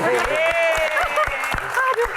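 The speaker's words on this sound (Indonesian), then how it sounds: "Oke, tepuk tangan" Scattered applause from a studio audience at a live comedy talk show Q&A rises under a voice, which talks almost continuously while the clapping patters through the background.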